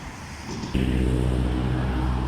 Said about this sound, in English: So approaching is bus number 405 bound for Al Nada.